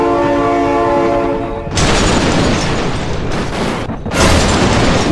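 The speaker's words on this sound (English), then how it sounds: "Oh my god, train!" In the BeamNG driving game, a train horn blares with a sustained tone, then gives way to a loud, roaring rumble of a passing train that fills the scene, with a brief dip before surging again.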